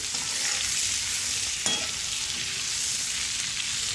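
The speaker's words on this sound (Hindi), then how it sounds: "इन सारी सब्जियों को हम अच्छी तरह से फ्राई करके निकाल लेंगे।" Mixed vegetables fry and get stirred in a hot pan, giving a steady, loud sizzle throughout with a brief scrape of the spoon partway, no voices.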